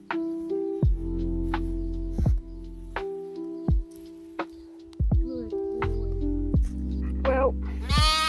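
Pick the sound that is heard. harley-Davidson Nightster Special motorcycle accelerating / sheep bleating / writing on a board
sheep bleating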